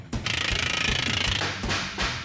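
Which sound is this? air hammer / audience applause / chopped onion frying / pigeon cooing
air hammer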